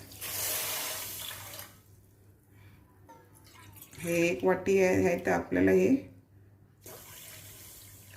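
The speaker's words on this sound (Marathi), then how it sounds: "ह्यामध्ये अशा प्रकारे आपण हे पाणी घालून घेऊया" Water pours briefly from a tap into a bowl of sugar for gulab jamun syrup, a short splashing burst between stretches of someone talking.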